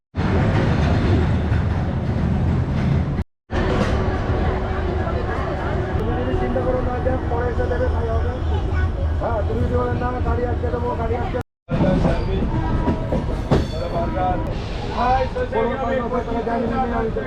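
The 22897 Kandari Express pulls out of Howrah, its continuous rolling rumble and clatter of wheels carrying on at close range, with two brief dropouts and faint voices in the background.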